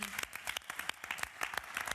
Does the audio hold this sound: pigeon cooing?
no